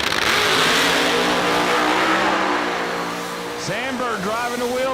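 A drag race car roars down the strip at an outlaw series event in Huntsville, its engine loud and sustained before pitch shifts and fades. Excited commentary runs over it.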